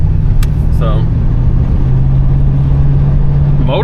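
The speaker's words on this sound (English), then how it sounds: "motor sounds good. Response is good." A 1984 Oldsmobile Cutlass Hurst engine runs while driving, a steady loud low rumble with road and wind noise throughout, and a voice speaks briefly over it.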